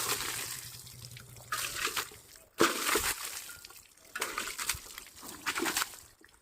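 Water is splashed and poured over a motorbike during an outdoor wash, in several separate sloshing bursts with quieter trickling and dripping between them, close by.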